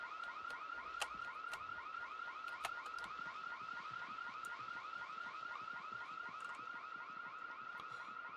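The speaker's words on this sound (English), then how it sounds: "Is that car still going off?" Car alarm in the video game Project Zomboid, a repeating rising electronic whoop cycling rapidly and continuously, faint and distant with no talk over it.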